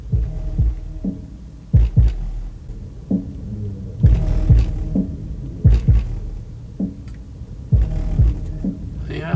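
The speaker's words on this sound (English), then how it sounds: "That's just all the stuff rattling on my desk." Loose items rattling on a desk, shaken by bass from a Hifonics Brutus car amplifier during repair testing: repeated low thumping pulses with buzzing rattles, roughly every second, loud and close, with a steady hum underneath.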